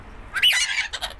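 A pet bird squawks once up close, a short harsh call followed by a couple of quick rough chirps, loud and alone.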